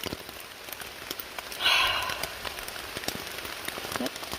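Steady rain pattering on a tent and surrounding surfaces at a riverside campsite on the Virginia Appalachian Trail, a dense continuous hiss with scattered close drops and one brief rustle partway through.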